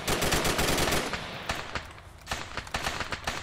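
Heavy gunfire in the military shooter ArmA 3: a dense, loud rattle of rapid shots that thins into scattered, separate cracks and short bursts, with no talk over it.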